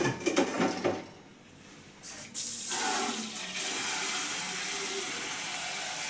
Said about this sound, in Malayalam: ഇനി മുന്തിരി നല്ല കഴുകി എടുക്കട്ടെ.